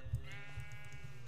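A sheep in the Minecraft video game bleats in one drawn-out, wavering cry, close and clear against a low steady background.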